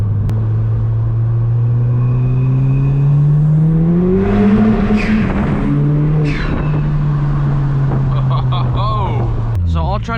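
A Ford Fiesta ST on budget Raceland coilovers accelerates hard in second gear, a loud droning engine rising in pitch, then holding and dropping as it eases off.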